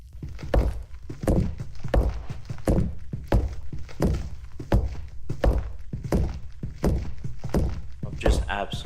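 Blocks being broken in Minecraft, a rapid run of regular dull thunks and crumbles repeating about twice a second, loud and close under a player's voice.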